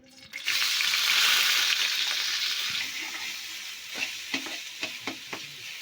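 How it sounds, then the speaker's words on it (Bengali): Mashed lentil paste frying in a wok of hot oil, a steady loud hiss fading slightly, then several sharp scraping stirs toward the end as the spatula turns the crumbly dal. "ডালটা দিয়ে নাড়াচাড়া করতে করতে এরকম ঝুরঝুরে ভাজা হয়ে আসবে"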